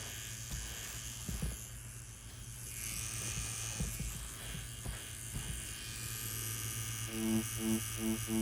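Steady electric buzz of a tattoo machine doing dotwork with just the needle tip, a low continuous hum with faint pulsing texture throughout and a brighter rhythmic stutter near the end.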